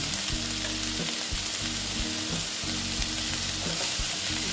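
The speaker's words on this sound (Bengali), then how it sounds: "দিয়ে একটু একটু হলুদ দিয়ে দিলাম" Small mourala fish fry with turmeric in a hot oiled pan, giving a loud, continuous, close sizzle with faint stirring scrapes underneath.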